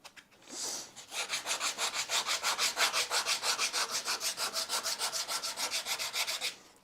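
Rhythmic back-and-forth strokes of a hand sanding block rasp across wood, about thirty even passes in a steady, close-up scrubbing pattern.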